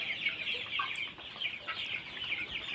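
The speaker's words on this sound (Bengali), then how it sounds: "এই হলো বড় মুরগিগুলো" Sonali chickens on a poultry farm cluck and chatter continuously, a dense flock of overlapping calls at moderate distance with no talking.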